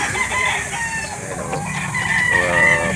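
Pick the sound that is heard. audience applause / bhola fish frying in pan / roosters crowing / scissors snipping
roosters crowing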